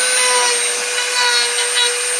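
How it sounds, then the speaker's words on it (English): Regular sandpaper rubbed over a wooden dresser knob, a continuous close scratchy rasp with no pauses or talk. "we're going to brush it up with regular sandpaper"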